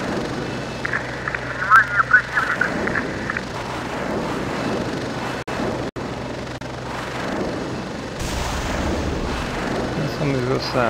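Helicopter rockets launching in the combat flight game Heliborne, a series of loud whooshing blasts and booms over a steady rotor drone, with explosions near the end.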